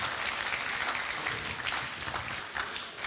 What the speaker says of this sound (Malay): Berikan satu tepukan kepada beliau.